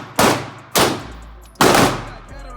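Three loud, sharp gunshots at a shooting range, each a sudden blast followed by a decaying ring, spaced unevenly over a couple of seconds with no talking.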